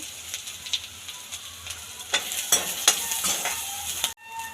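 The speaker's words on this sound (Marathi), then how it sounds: "आता आपण आपण खोबरं भाजून घ्यायचं" Grated coconut is dry-roasting in a pan for a spicy potato-and-pea rassa curry. A spoon stirs and scrapes in repeated strokes over a steady sizzle, then the sound cuts off abruptly.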